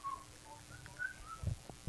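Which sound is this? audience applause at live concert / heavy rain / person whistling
person whistling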